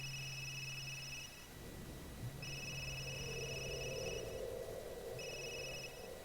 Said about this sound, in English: Ooh, phone call.